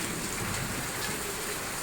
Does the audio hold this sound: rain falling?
yes